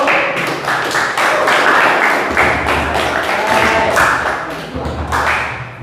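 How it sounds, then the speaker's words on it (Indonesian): Students at a vocational high school clap for the first group after its presentation, a loud, busy patter of hands with some thumps, while voices carry on underneath. "Tepuk tangan untuk kelompok 1"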